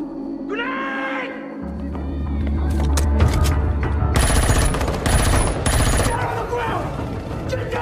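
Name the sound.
gunfire as soldiers shoot each other in film Awake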